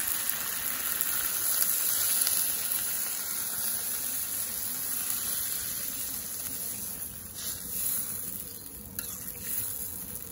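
Broth goes into a pan of browned chicken curry meat, with a loud, steady sizzle running throughout and a brief shift in the hiss near the end. No one speaks.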